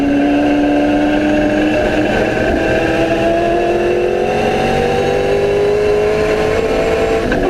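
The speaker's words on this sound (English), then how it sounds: "Now watch us thundering" Loud, continuous engine roar from V8 race cars, pitch gliding up and down as they pass close by with no talk.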